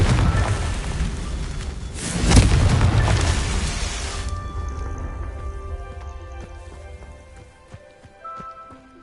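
A Confringo explosion spell from a Harry Potter video game bursts loudly with a deep, broad boom, then fades into a lingering rumble and scattered crackles.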